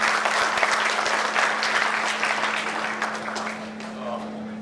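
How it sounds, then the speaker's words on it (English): Sustained applause from an audience at a campus coding event, dense steady clapping filling the whole stretch, with a constant low electrical hum underneath. "Can we have a huge round of applause, ladies and gentlemen?"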